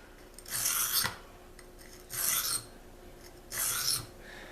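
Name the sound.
knife blade being sharpened on a Tri-Hone stone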